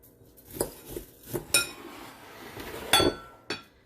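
Metal utensil clinks repeatedly against a dish while spreading topping over cheesy potatoes in a home kitchen, a series of sharp, close taps spaced irregularly, with a louder clatter near the end.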